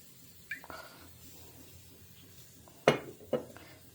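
Metal pots and pans clatter on a home kitchen stove as coconut oil goes into a pan, a few sharp knocks and clinks against a quiet background.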